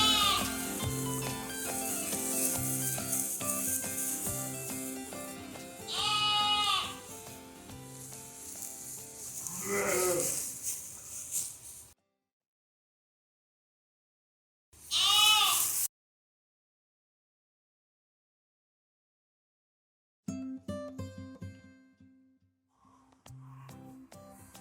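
Lambs and sheep bleat in a farm shed during lambing season, calling repeatedly at close range in several loud bursts separated by stretches of near silence.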